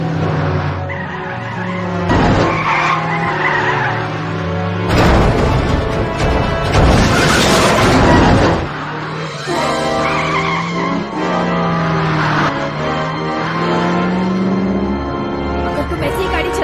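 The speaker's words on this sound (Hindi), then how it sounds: "कोई इंसान इतने स्पीड से गाड़ी कैसे चला सकता है?" A car tears along at high speed in an action movie, its engine roaring loudly and continuously while tires screech through long skids.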